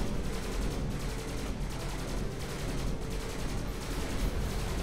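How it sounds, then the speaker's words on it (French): Machine-gun burst fire in the video game Skyforge, a dense, continuous rattle of rapid shots with steady loudness from start to finish and no speech. "Ensuite, utiliser rafale en mode mitrailleuse."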